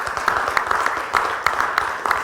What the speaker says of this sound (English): I'd like to have a warm applause to all the speakers today.